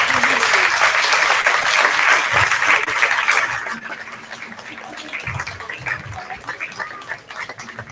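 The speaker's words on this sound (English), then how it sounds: "Cheer for James the Jazz Man as he does a jig down the runway" An audience at a kindergarten fashion show claps and cheers loudly, with the applause tapering off into scattered clapping and murmuring voices toward the end.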